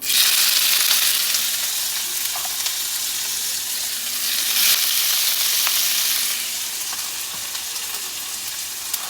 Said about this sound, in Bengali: এই তেলটা হয়ে এসছে এটাকে কমিয়ে দিই আর অনেকটা তেল হয়ে গেল আচ্ছা যাক দি টমেটো আর পেঁয়াজটা দিয়ে দিই